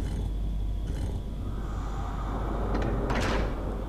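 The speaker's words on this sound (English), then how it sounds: "It seems the door has unlocked." An old door unlocks and shifts in the horror video game Fatal Frame 3, with a heavy wooden clunk and a brief scraping creak over low, steady ambient rumble.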